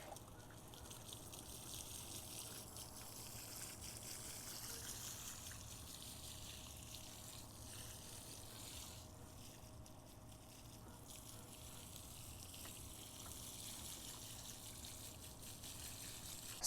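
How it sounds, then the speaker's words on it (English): Water pours steadily onto the soil around a newly planted garden plant in the summer heat of a southeast Texas yard, a soft continuous trickle and splash that holds an even level throughout with no talking. "I'm going to water this in real quick."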